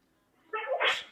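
A single sharp human sneeze bursts out close and fairly loud after a quiet moment, with a quick breathy build and explosive release.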